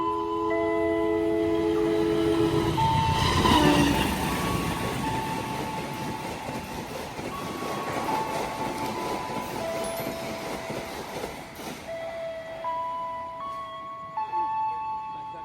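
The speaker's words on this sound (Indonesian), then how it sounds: "Jalur 2 dari arah barat melintas langsung kereta api Taksaka." The Taksaka passenger train rumbles steadily through an Indonesian station at close range without stopping, with long horn or whistle-like tones and rolling wheel noise filling the clip.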